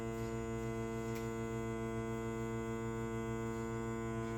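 A Zwilling food saver vacuum sealing machine runs with a steady electric drone, an even unbroken hum that stays constant and close throughout, with no voices.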